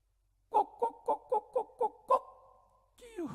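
A voice imitating a rooster and hen: seven quick, evenly spaced clucks, then a drawn-out crowing cry, close and clear, followed by a burst of noise.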